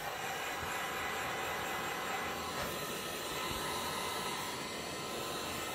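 A small heat gun blows steadily on its low setting over a resin tray, a continuous close, even airy roar with no breaks for the whole stretch.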